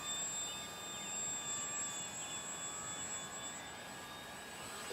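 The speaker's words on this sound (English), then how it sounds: "This plane sounds funny." Aircraft engine droning steadily throughout, with several sustained whining tones over a broad rumble that the pilot found unusual in flight; no talk.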